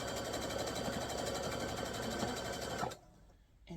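A sewing machine stitches fabric for a shirt in a fast, continuous mechanical whir close by, then stops abruptly near the end, leaving faint room quiet.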